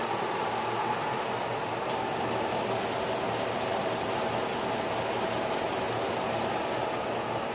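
Engine idling cold with Comp Cams Evolution lifters, a steady, even mechanical drone with a fan-like whir and no ticking standing out, continuous and close with no talking.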